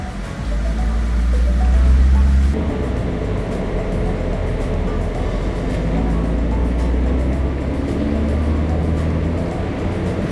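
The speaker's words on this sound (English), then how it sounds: "This is my first time with a Corvette on the dyno that I could actually like drive it." A 2024 Corvette E-Ray runs in drive on a dyno, a loud steady low rumble with a swell early on that settles into a constant drone, rollers and machinery humming underneath.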